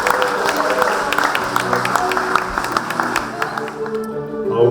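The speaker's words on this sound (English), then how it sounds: "Big round of applause for these two guys." A crowd claps at the Wildgoose Rural Training Awards Night 2024, with dense, continuous applause and sharp individual claps over a murmur of voices and a tonal background, fading slightly near the end.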